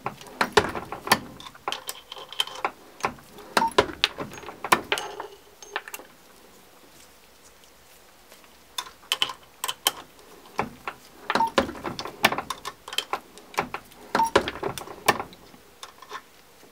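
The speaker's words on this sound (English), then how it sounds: "take brass that's straight from the range and go ahead and run that through the carbide sizing die" Fired brass cartridge cases are forced through a carbide sizing die on a reloading press, giving repeated clusters of sharp metallic clicks and clunks in irregular bursts with a quieter gap midway.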